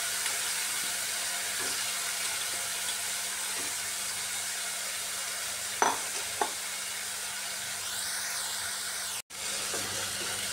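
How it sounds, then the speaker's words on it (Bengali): Previously fried mung dal and fried potatoes stirred in a hot pan, a continuous close sizzle with a few scraping strokes of a spatula and a brief sharp click near the end. "মুগ ডালটা আমি ভেজে রেখেছিলাম এটাকে ধুয়ে পরিষ্কার করে নিয়েছি, এটা দিয়ে দিচ্ছি। ভেজে রাখা আলুও দিয়ে দিচ্ছি।"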